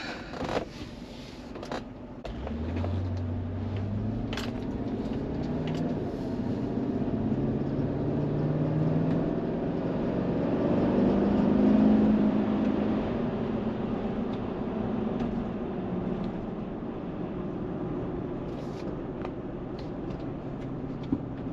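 A 2007 Chevy Tahoe, tuned with cylinder deactivation turned off, drives along a road with a steady low drone of engine and road noise from inside the cabin, rising slightly as it pulls ahead.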